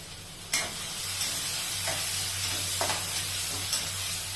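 Chopped onion with garlic-ginger paste sautéing in a pan while making palak dal khichdi, a steady soft sizzle with a few brief stirring scrapes over a low constant hum, no talking.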